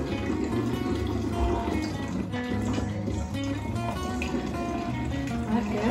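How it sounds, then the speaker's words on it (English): Liquid pours steadily and continuously during a homemade volcano science experiment, a full, close watery fill sound with a low rumble running alone throughout. "just be careful how we're pouring this, Luke, because I'm pushing it up and you're pulling it back down"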